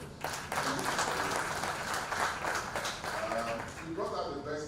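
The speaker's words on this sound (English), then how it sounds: "Please give me a round of applause." A round of applause from a crowd, steady clapping filling the space with a voice talking over it near the end.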